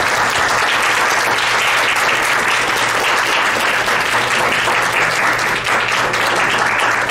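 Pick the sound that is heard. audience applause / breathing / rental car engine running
audience applause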